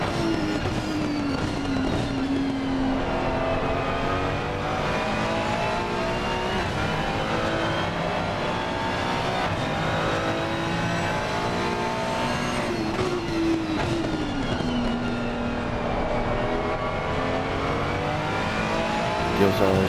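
Race car engines howl around Bathurst in Assetto Corsa Competizione, a continuous close roar with rising and falling pitch through gear shifts, while a commentator talks over it.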